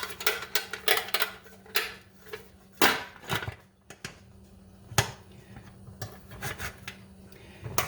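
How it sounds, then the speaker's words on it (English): A lid set onto a pot of round steak in brown gravy on the stove, with several sharp metallic clinks and clanks, short rubbing scrapes between them, close up and without speech. "And we are going to add the lid."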